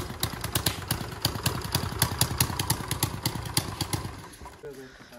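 Motorcycle engine cranking and sputtering as it tries to start after water got into its sensor, a rapid rough clattering pulse close by that fades near the end, with voices talking over it.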